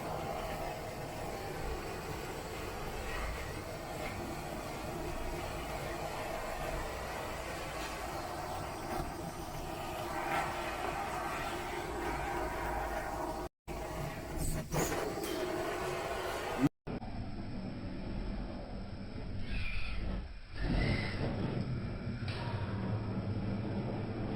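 A heat gun blows steadily to burn off the covering on an old, loose interior door card trim, a continuous loud whooshing hum with a couple of abrupt cut-outs partway through.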